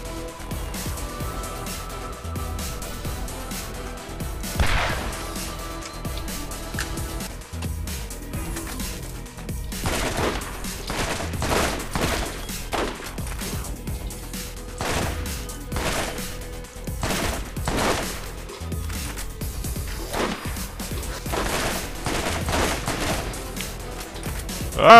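Dense gunfire and explosive bombardment in the video game Borderlands, with rapid overlapping shots and heavy blasts that keep up a loud, chaotic barrage from start to finish.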